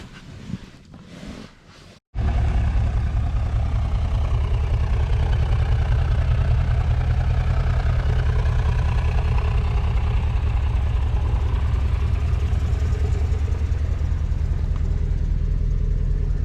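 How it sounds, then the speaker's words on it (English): A Mercedes C63 AMG Black Series fires up after a brief whir of the starter, then settles into a loud, steady, deep idle that rumbles on evenly and close by, with no voices. "Start the engine,"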